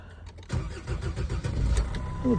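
A Jeep WJ with a 2.7 diesel engine starts up: a quiet pause gives way to close, rhythmic starter cranking, and the engine catches into a rough, rumbling run. No one speaks.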